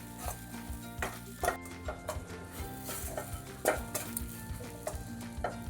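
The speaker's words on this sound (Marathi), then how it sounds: "हे सारण कोरडं होईपर्यंत आपल्याला परतायचं आहे लो फ्लेमवरती" A spoon stirs and scrapes coarsely ground green pea filling in a pan over a low flame, with repeated clinks and a soft sizzle underneath, close and fairly quiet.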